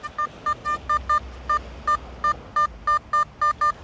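Simplex Ultra metal detector signalling a beach target in dry and wet sand: a steady run of short, evenly spaced electronic beeps, close and clear, with no talking.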